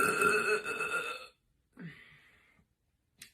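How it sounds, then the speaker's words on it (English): A single long, loud burp from a person erupts up close and then cuts off, followed after a brief silence by a softer, shorter belch-like sound and a faint click. "I think I burped out."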